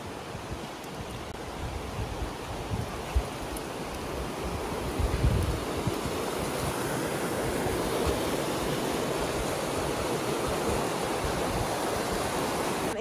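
A waterfall heard up close beside a hillside village, a dense, steady roar of rushing water that stays loud and even from start to finish.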